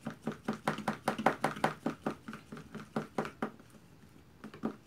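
Popcorn slime being kneaded and mixed by hand, giving a rhythmic series of soft, sticky squelching pats and crackles, about three per second, close and fairly quiet, with a short pause before a few more.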